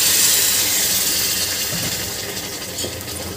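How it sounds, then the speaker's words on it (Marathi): Water pours steadily into a pot of rice for masale bhat, a close, hissing splash that eases off slightly toward the end, with no talk. "इथे मी अंदाजाने पाणी घालत आहे"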